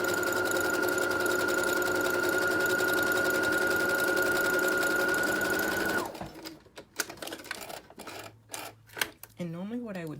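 A sewing machine runs steadily stitching a narrow inside seam on a plain white T-shirt, close and continuous for six seconds, then stops amid handling clatter and a brief voice.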